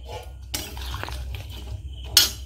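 Cooked potato curry slides out of a pan amid metal scraping and clinks of pan and utensil, a short burst of close kitchen clatter with a sharper knock near the end.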